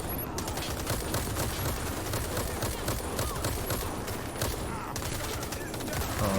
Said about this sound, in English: we'll provide a bit of cover fire for the top and stuff here